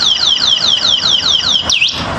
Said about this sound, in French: si jamais quelqu'un essaye de bouger le scooter, l'alarme s'enclenche la première fois